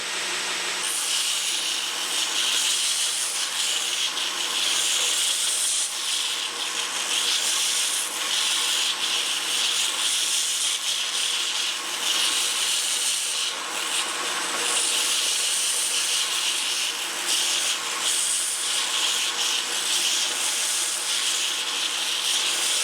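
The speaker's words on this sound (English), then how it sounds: "Now if you have a grinder like this, resist the idea of cranking it up to its high speed." A grinder grinds steadily on a wavy bladed dagger at moderate speed, a continuous close, harsh abrasive rasp that holds without pause throughout.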